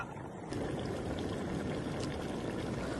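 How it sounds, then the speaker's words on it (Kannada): Water is poured into chicken gravy cooking in a pan, a faint steady pouring and trickling sound lasting a few seconds, close by with no talk over it. "ಸ್ವಲ್ಪ ನೀರು ಹಾಕೋಣ"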